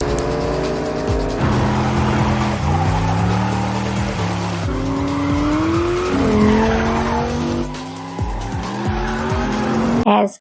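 Racing cars roar with rising and falling engine revs, tires squealing through the turns. It is loud and continuous, with no voices.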